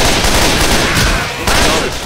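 Dense bursts of rapid automatic gunfire rattle continuously from a video game shooter, loud and close, with a sharp fresh volley partway through.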